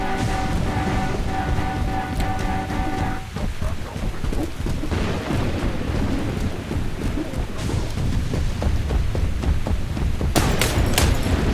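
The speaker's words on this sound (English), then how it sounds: "Oh, and we're taking fire." Gunfire in the Warhammer 40,000 Eternal Crusade video game comes as a dense, rumbling barrage of shots and booms under steady noise, with a sharper cluster of bursts near the end.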